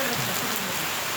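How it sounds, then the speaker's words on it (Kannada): Heavy rain pours down over a sports stadium in Mugalkhod town, a steady, dense hiss of drops beating on surfaces that fills the whole clip without a break, with no voices over it. "ಕ್ರೀಡಾಂಗಣದಲ್ಲಿ ಮಳೆಯ ಆರ್ಭಟ"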